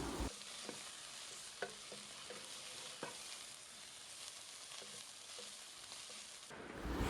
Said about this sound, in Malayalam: അരച്ച് വെച്ചിരിക്കുന്ന ഇഞ്ചി വെളുത്തുള്ളി പേസ്റ്റ് ചേർത്ത് കൊടുക്കാം